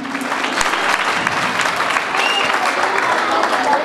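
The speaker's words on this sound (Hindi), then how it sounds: "ज़ोर से तालियां" Loud, dense applause from an audience at a Jain children's drama performance in Belgaum, sustained clapping from many people filling the hall close by, steady from start to finish.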